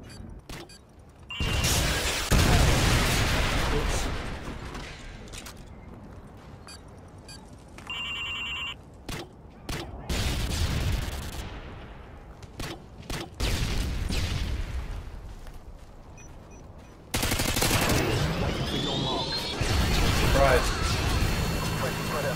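Gunfire in a video game comes in loud dense bursts separated by quieter stretches, with sharp isolated shots and an electronic chime in between, while a player talks over it.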